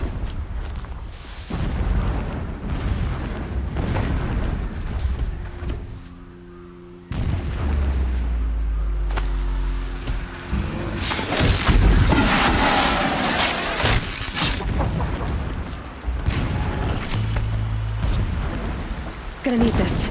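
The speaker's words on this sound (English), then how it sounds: "Explosions in the distance." Distant explosions in the Horizon Zero Dawn video game, a series of deep booms and rumbling blasts rolling in and out over several seconds amid ambient game noise.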